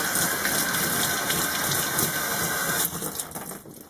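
Water runs from a sink tap in a chemistry workspace during cleanup as a steady broadband gush that cuts off near the end, leaving faint trickling.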